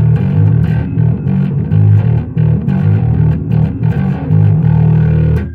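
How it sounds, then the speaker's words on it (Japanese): An electric guitar played through a Rodenberg distortion pedal gives thick, saturated sustained chords and riffs, loud and continuous, alone without voices. "1はこのローデンバーグの歪みだけ"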